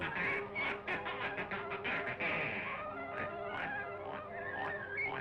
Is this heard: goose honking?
yes